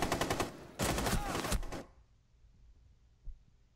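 Rapid automatic gunfire in the shooter game Rainbow Six Siege, loud dense bursts for nearly two seconds, then quiet background with one soft thud.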